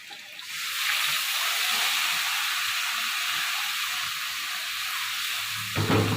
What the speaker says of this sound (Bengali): এই যে কালো জিরে ফোড়ন দেবো, আর এটা দেবো।